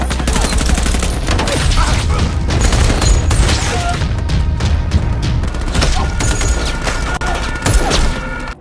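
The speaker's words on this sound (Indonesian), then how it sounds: "Mereka kemudian melihat teroris datang dengan mobil dan mulai menembak." Heavy gunfire from a film firefight with terrorists, loud and continuous, with dense bursts and booming impacts filling the whole stretch under a cinematic mix.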